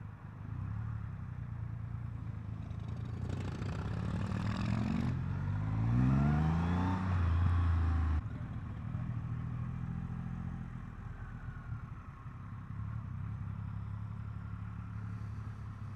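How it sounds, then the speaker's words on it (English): A Triumph Rocket 3 motorcycle rumbles steadily on a test ride, its engine note rising in a strong rev around the middle before settling back to a steady drone. No one speaks. "that is my test ride on the amazing, beastly Triumph Rocket 3"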